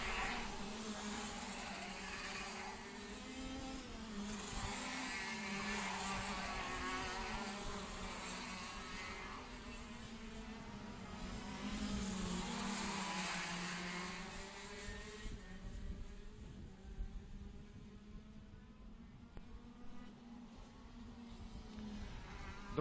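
KZ2 class racing karts in a second final race, their high-pitched engines buzzing continuously and loudly for most of the stretch, rising and falling as they pass, then thinning to a quieter drone near the end.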